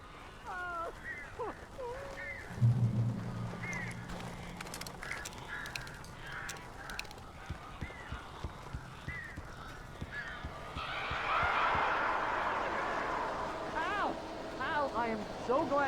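Crows caw repeatedly in the game Alan Wake Remastered, in short harsh calls scattered through the clip, with a rising rush of wind or wing noise near the end. Speech and game sounds run alongside them.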